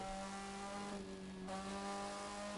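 A small-engined car in The Crew 2 video game drones with a steady, thin, buzzing motorcycle-like engine tone, dipping briefly before climbing again, moderately faint throughout.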